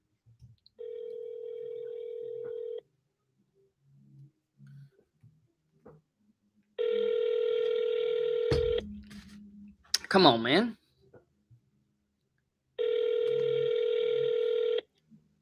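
An outgoing telephone call rings back in three long, steady tone bursts spaced several seconds apart, with a man muttering briefly between them.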